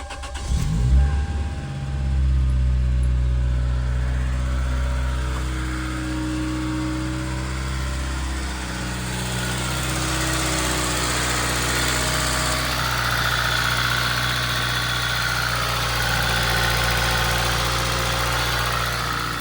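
A seventh-generation Toyota Celica's 2ZZ engine cranks and starts, then settles into a steady low idle with a faint whine above it, close by and continuous.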